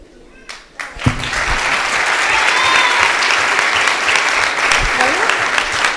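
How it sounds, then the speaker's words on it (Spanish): Audience at a televised singing competition semi-final applauding an 11-year-old girl singer, a dense sustained wave of clapping that swells in after a few thumps and stays loud, with faint voices underneath. "Así vibra este aplauso para Agostina Vega, de tan solo 11 años"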